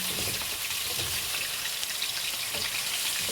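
Vegetables cooking in a pan, giving a steady, close, dense sizzle that holds constant throughout with no pauses or voices.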